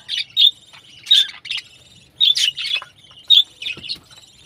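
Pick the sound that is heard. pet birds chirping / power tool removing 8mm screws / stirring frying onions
pet birds chirping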